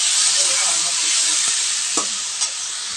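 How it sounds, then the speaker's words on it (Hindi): Five red chillies and a few garlic cloves frying in a pan, a continuous moderate hiss and crackle with a couple of soft clicks near the end. "इसमें हम 5 लाल मिर्च डाल देते हैं, और 3-4 ये लहसुन के।"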